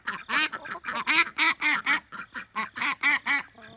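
A duck quacks in a rapid series of about a dozen loud, close calls with only short gaps between them.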